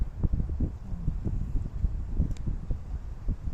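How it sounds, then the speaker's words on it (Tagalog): Wind blows outdoors by the sea in Kinsarvik, gusting against the microphone as an uneven low rumble that swells and drops throughout. "Oh, hangin."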